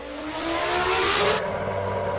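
A Ferrari F1 car in Garry's Mod drives past with a loud, rising engine drone and hissing noise that cut off abruptly, leaving a lower steady hum behind.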